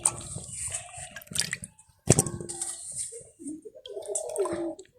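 Water is poured into a pot of washed yams set to boil, splashing and dripping in short uneven bursts, close and moderately loud with no speech over it.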